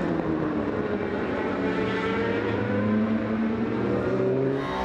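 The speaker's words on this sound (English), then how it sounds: "Back on board with the Rstrada car number 35 here, being overtaken at high speed by the AF Corse car" Race cars in the Asian Le Mans Series at Sepang scream past at high speed, with a loud, continuous engine roar whose pitch climbs and shifts as one car overtakes another close by.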